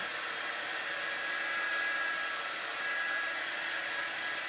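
A heat dryer blows steadily to dry a transfer on a DIY tombstone, a constant airy rushing hum with a faint high whine, unbroken throughout and with no talking.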